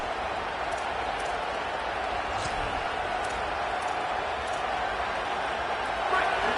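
Broad, steady roar of a stadium crowd at a college football game, a dense wash of distant voices running under a play-by-play commentator's talk.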